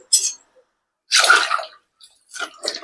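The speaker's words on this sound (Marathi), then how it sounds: "यामध्ये आता तुम्ही भरपूर प्रमाणात पाणी टाकायचं" Water splashes into a cooking pot in three short bursts separated by silence, close by and fairly loud.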